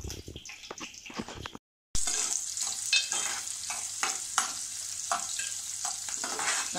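A spoonful of mustard seeds hits hot oil already holding curry leaves over a low gas flame. Loud, close frying sizzle with crackles and stirring, broken by a brief silent gap, then continuous sizzling.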